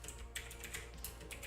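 Quiet, quick clicking of keys on a computer keyboard, several taps in an uneven rhythm, close but soft and with no voices.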